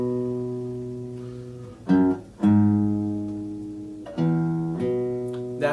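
Plucked bass notes ring out in a slow, repeating line, each low tone sustained before the next, with occasional brighter attacks; no voices.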